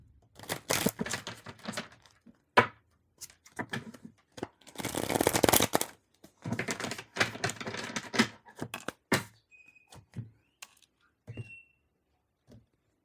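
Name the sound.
shuffling tarot cards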